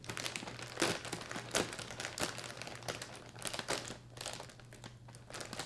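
A plastic cereal bag of Oat Blenders Honey is pulled open by hand, giving soft, close crinkling and crackling of plastic in irregular bursts under a faint steady background hum.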